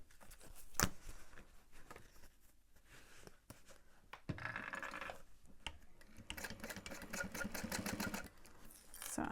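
A sewing machine stitches across the top of a slip pocket on a bag: bursts of rapid mechanical chatter, quiet pauses between them, then a longer, louder run of stitching near the end.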